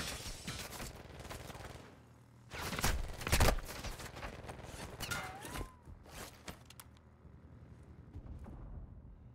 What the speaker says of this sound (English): Wilson's shooting at me now.